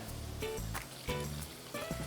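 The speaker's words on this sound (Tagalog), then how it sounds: "At maglagay din muna tayo dito ng tubig." Water is poured a little at a time into a pot of pork ribs and lemon-lime soda for adobo. It makes quiet, uneven gurgles and splashes in several short bursts, with no talk.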